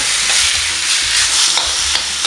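Bean sprouts are stir-fried Pinoy style in a hot pan, making a loud, dense, continuous sizzle with soft stirring scrapes throughout.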